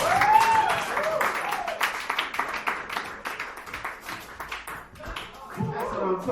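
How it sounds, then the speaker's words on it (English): A dive-bar comedy show audience claps and applauds steadily, with a host's amplified voice talking over the clapping. "Another round of applause"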